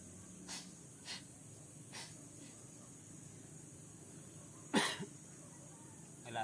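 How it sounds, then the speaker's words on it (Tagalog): A few soft, brief coughs spaced out over several seconds, with one louder, harsher cough near the end against a steady background hiss. "Wala na, inuubo na."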